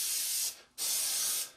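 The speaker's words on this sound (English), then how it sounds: "spray the weathering wash straight over" Weathering wash sprayed from an airbrush over a 1/32 Trumpeter Swordfish model aircraft, two close, steady hissing bursts split by a brief pause.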